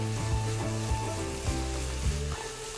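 Continuous sizzling of onions and eggplant stir-frying in hot oil, heard beneath steady background music.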